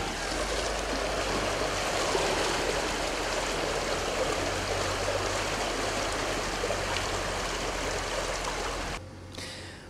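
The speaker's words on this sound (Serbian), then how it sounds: "Dubina vode je preko metar i naglo ulazi u selo" Floodwater rushes into a flooded village with more than a metre of water, a loud, continuous broadband roar of fast-flowing water close by that cuts off abruptly near the end.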